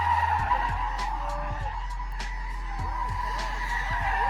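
A modified BMW drifting around a roundabout, its tires squealing in repeated wavering screeches over a constant loud engine drone, with voices of onlookers in the background.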